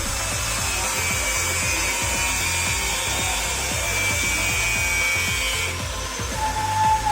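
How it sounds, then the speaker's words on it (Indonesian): Rhythmic back-and-forth sawing strokes, about two per second, cutting through a speaker grill close by, steady and loud, then easing off near the end. "lalu potong grill untuk menutupi bagian depan"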